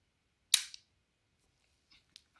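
Mantis laser training pistol dry-fired once for calibration, giving a single sharp mechanical click close to the mic, followed by a few faint small handling clicks.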